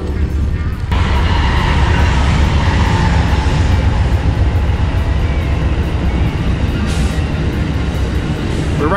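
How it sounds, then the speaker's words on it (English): An Amtrak train in Princeton, Illinois rumbles past close by, a loud sustained roar that swells abruptly and holds steady, with a brief horn-like burst near the end. "We got a train coming, too."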